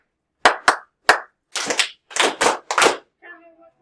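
Students clapping in a classroom clapping game, a sharp patterned sequence of claps: two quick single claps, another, then doubled bursts in rhythm, ending with a faint murmur of voices.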